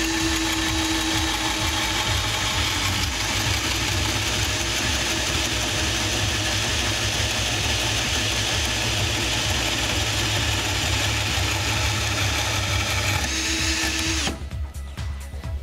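A power tool grinds steadily to miter a bicycle seat tube, a continuous close whirring buzz that runs for about fourteen seconds before cutting off abruptly.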